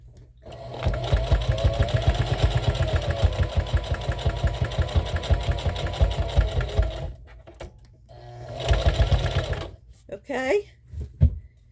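A sewing machine stitching through a sponge, rapid rhythmic mechanical whirring in a long run that stops, then a second shorter burst, followed by a few handling clunks.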